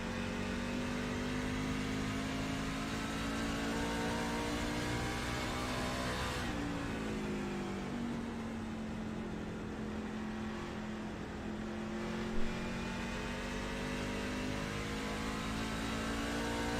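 Racing truck engine at Richmond roaring steadily from an in-car camera, a constant loud drone with shifting pitch as the truck runs laps, briefly dipping and rising again around mid-run.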